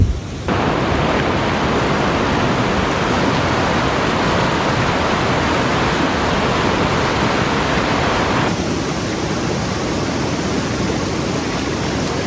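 A creek flows in a steady, full rush of running water close by while a burdock root is washed in it, continuous with no talk and a slight shift in tone partway through.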